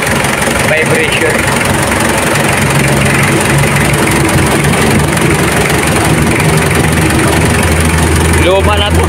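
An old diesel engine from around 2000 idles loud and close with a steady low rumble and knocking vibration throughout, and a voice is heard near the end.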